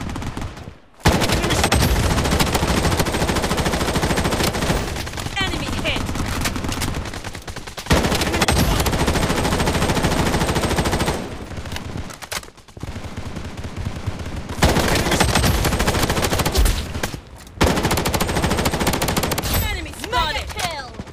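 Heavy automatic gunfire in the mobile shooter Project Bloodstrike, running on Android: long, loud, near bursts of rapid fire split by brief pauses across the whole stretch, with faint game voice callouts mixed in.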